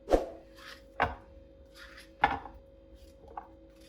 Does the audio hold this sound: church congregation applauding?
no